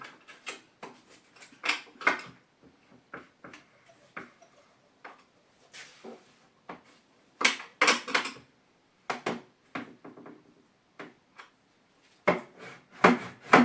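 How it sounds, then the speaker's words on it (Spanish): A nut being tightened into the wood of a homemade beach chair gives a series of close, sharp scraping and ratcheting clicks in irregular bursts separated by short quiet gaps. "Lo podemos apretar lo máximo y después soltar un poco para que la tuerca quede bien dentro de la madera."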